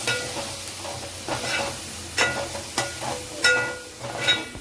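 Coriander powder and garam masala stirred into vegetables frying in a pan for paneer veg fried rice, with a steady sizzle under repeated clinking spatula strokes against the pan.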